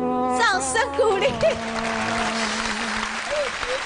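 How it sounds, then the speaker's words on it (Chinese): Studio audience applause on a televised singing contest after a trumpet performance, a steady patter of clapping mixed with a voice calling out and brief sung or played notes. "掌声鼓励！"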